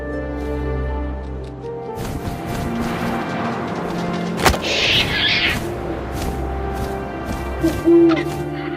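Owl hooting in the video game What Remains of Edith Finch, soft low hoots over a sustained windy ambient bed with tonal music, plus a sharp thump midway and a brief rustling flutter.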